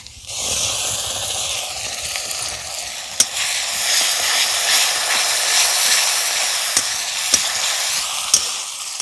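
Tomato paste sizzling in a hot pan with fried onion and garlic, a steady close hiss and crackle that runs throughout, with a few sharp taps of a spoon against the pan.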